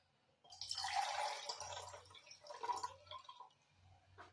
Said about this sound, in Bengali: এই যে ছোলাগুলো সকালবেলায় ভিজিয়ে রেখেছি, যে ছোলাগুলো জলটা ফেলে দিই